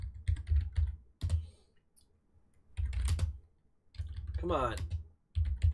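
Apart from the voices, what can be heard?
typing on a computer keyboard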